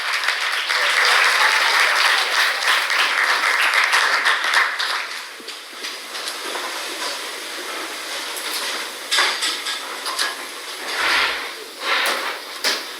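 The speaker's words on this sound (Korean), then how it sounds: "여러분들 큰 박수 부탁드립니다" Audience applause fills a forum hall as speakers take their seats for a political debate, a steady wash of many hands clapping that stays loud, then thins and swells unevenly, with no speech over it.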